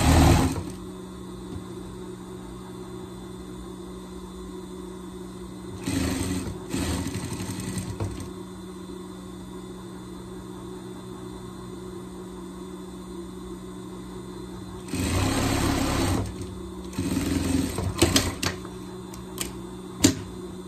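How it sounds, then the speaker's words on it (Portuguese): A sewing machine stitches fabric for pet overalls in several short, close bursts of rapid whirring separated by long quiet pauses with a faint steady hum. "agora a gente vai fazer, vai costurar"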